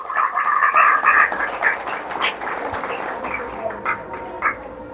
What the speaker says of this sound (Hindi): उनके लिए भी जोरदार तालियां बजा दो भाई एक बारी।